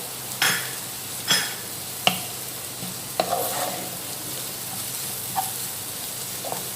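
Chopped green chillies and onion sizzle gently in a pan while a spoon scrapes and taps it several times at uneven intervals, the scrapes standing out sharply over a low, steady fry.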